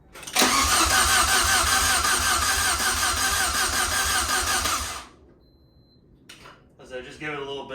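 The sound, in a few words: Saab 900 Turbo engine cranking with starter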